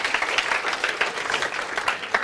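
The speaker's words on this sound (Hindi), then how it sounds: "जानवी के लिए जोरदार तालियां बजा दीजिए।" Applause during an online class lecture, a steady patter of many hands clapping at moderate loudness without any voices.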